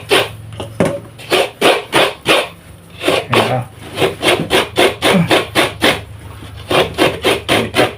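A coconut is grated on a sharp hand grater, a close, loud run of rough rasping strokes in quick repeated bursts, starting uneven and then settling into a fast, steady rhythm.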